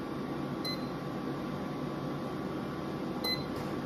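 Two short electronic timer beeps from a pet dryer, a few seconds apart, sound over its steady low hum.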